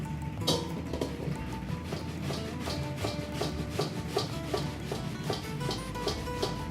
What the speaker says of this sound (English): we're going to put on the large part of our box grater here